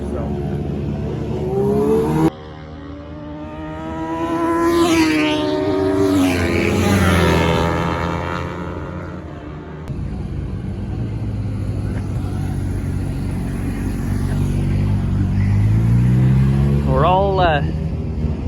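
A Honda RS125 two-stroke racing motorcycle screams past on a track, its high-pitched engine rising and falling through gear changes, loud and close at times and receding, with another pass near the end.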